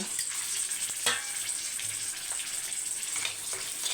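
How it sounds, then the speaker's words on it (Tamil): Curry leaves and green chillies frying in oil, a soft steady sizzle with a few faint crackles and spoon clicks, heard alone without talk. "கருவேப்பிலை பச்சை மிளகா பொறிஞ்சு வருது"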